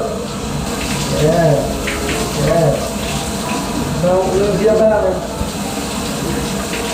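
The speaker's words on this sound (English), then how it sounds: "Stick your head in that shower." A shower runs steadily while a pet bird is bathed under the spray, with a person talking gently to the bird over the continuous rushing water.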